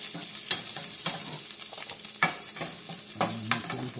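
Garlic frying in a pan for a shrimp broth gives a continuous hissing sizzle, broken by scraping spoon strokes as it is stirred, close and fairly loud, with no talking.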